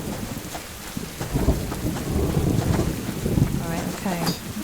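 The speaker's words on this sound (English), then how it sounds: "I wish it wasn't raining." Steady rain and rolling thunder in the survival video game Subsistence, a continuous wash of rainfall with low rumbles swelling throughout, loud and close, with no talk.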